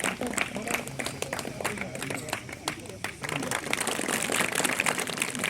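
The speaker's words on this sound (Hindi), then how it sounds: "जोरदार तालियां हो जाए इसके साथ।" A crowd claps loudly and steadily at a district kho-kho final match, the applause growing fuller toward the end, with voices murmuring underneath.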